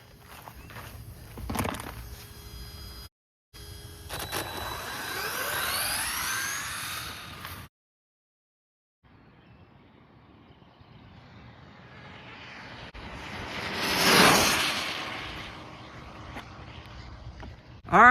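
A Rlaarlo SBK10 RC car motor at full throttle whines up in pitch and then fades, with the high-speed electric whir swelling to a loud peak as it passes during a speed run.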